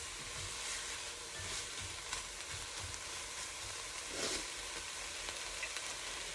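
Onions sauté in a pan for Italian sausage soup, giving a continuous quiet hiss of frying with faint occasional stirring, heard alone and at a low level.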